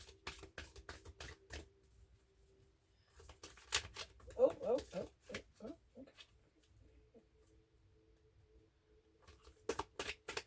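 Tarot cards shuffled by hand in bursts of soft riffling and flicking, with quiet pauses between, close and fairly faint, followed by a short cooing bird-like sound in the middle.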